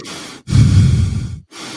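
A voice imitates a heavy breather with a long, loud, rasping exhale between shorter breaths, close to the mic and with no words.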